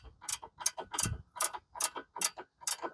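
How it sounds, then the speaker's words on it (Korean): A flexible ratchet spanner tightens a nut on a car's front stabilizer link, giving seven crisp, evenly spaced ratcheting clicks close up and alone. "일단 플렉시블 라체 스패너로 가능한 손으로 조일 수 있을 때만큼 조여놓고"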